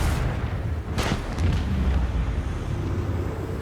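Explosions in the video game Warhammer 40k Rogue Trader during combat, heard as a loud, sustained rumble with a sharper burst around the one-second mark and continuing booming underneath.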